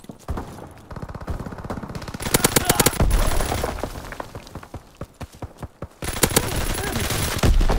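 Rapid bursts of video game gunfire from a hip-fired weapon on a capture-point battlefield, loud and close, with clusters of sharp repeated shots separated by short gaps and some voice chatter underneath.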